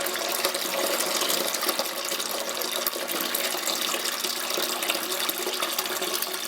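Beer wort for a chocolate cherry stout pours through a hop strainer, giving a continuous, loud, close splashing rush of liquid that stays even throughout, with no voices.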